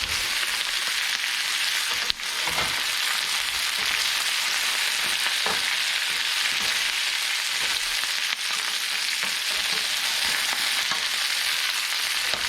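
Shrimp frying with garlic and pepper in a hot pan makes a loud, even hiss of sizzling that holds steady throughout, with a couple of brief knocks and no talking.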